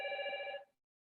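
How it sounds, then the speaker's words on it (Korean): Telephone bell ringing for an incoming call, a single bright electronic ring burst lasting about half a second and then cutting off into silence, close and clear with no talking. "나 갑자기 전화가 와가지고"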